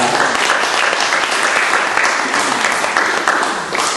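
Steady, dense applause from a large church congregation, sustained and loud throughout with no pauses.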